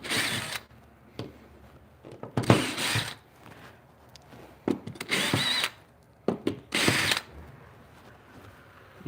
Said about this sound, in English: Let me unscrew this, because these things are not even being used.